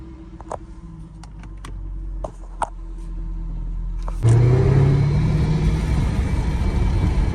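Jaguar car engine running inside a repair shop, a low steady idle with occasional clicks, then a louder, rougher rumble after a few seconds that continues to the end.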